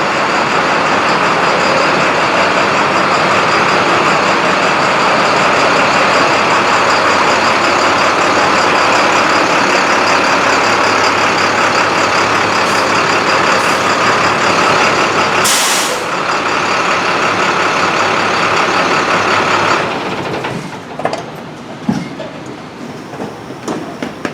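A 2010 International truck idles and runs with a steady, loud diesel drone that holds for about twenty seconds, then drops off into quieter, uneven clunks and knocks near the end.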